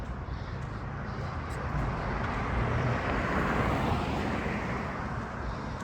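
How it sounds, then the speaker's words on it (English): Steady roadway noise of cars passing by, a broad whooshing rush that swells slightly in the middle and stays constant throughout. "Look at that. Cars going by."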